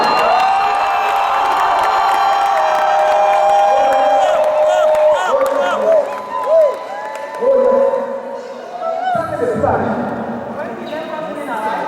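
A church congregation at a French-language service shouting and cheering for joy, a loud sustained crowd roar with whoops and rising voices that swells and breaks up, with a burst of louder shouting near the end.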